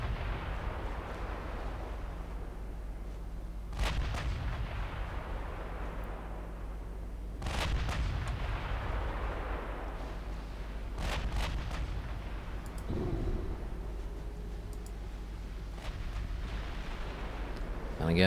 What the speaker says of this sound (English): All guns firing.